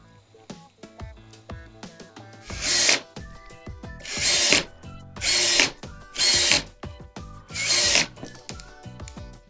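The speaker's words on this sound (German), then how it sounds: "die können wir jetzt schon hier an den Querbalken schrauben" A power drill drives screws to fix hinges onto a wooden crossbeam for a campervan wall cabinet: four loud whirring bursts of a couple of seconds each, separated by clicks and handling noises.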